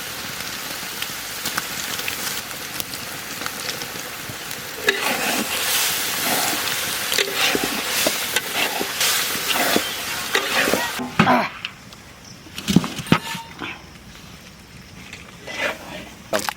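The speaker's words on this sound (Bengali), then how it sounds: "এখন দিয়ে দেবো আমরা ভাজা চিংড়ি মাছ।" Fried prawns go into a thick, well-cooked gravy, bringing a sustained loud sizzle with repeated scraping and stirring strokes in the pan for egg prawn rice cooked outdoors for villagers; the hiss thins out late, leaving sharper clanks.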